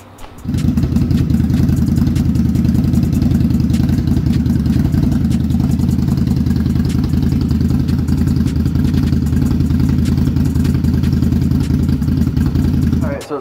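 An Indian Scout Bobber motorcycle with freshly installed exhaust wrap starts and idles, its engine running with a loud, steady, close-up rumble for the whole stretch.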